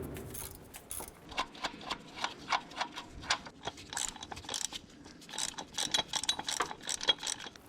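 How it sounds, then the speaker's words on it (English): A socket ratchet loosens 14mm bolts on a 2009-2015 Honda Pilot during a timing kit and water pump job, giving quiet, rapid clicking in repeated short strokes with faint handling noise. "let's go ahead and remove these 3 bolts"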